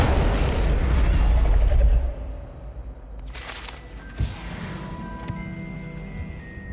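A fire spell cast in Hogwarts Legacy lands as a deep, loud boom with a roaring burst that fades into crackling flame, followed by a sharper pop and a lingering hiss.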